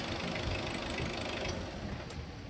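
Mitsubishi Adventure engine with a misfire runs steadily at idle, a close, continuous rough mechanical drone with uneven knocking pulses and no talk.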